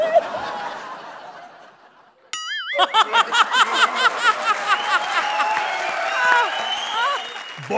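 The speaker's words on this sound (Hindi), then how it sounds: "तालियां." A live TV comedy-show audience breaks into loud, bouncy laughter and applause after a brief lull, the clapping and chuckling swelling and carrying on steadily.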